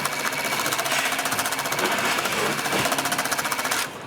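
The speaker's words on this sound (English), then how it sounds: "while you're sewing, while you're cycling the machine, if there was a bobbin there, you'll see that this turns" A CM-1900HS-XL industrial sewing machine runs, its main shaft turning to wind a bobbin. It makes a loud, fast, steady mechanical chatter close by and stops abruptly near the end.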